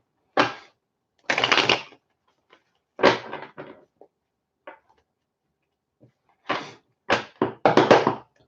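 Tarot cards are shuffled in a few quick riffling bursts, close and crisp, separated by silent pauses, with a longer run of shuffling at the end.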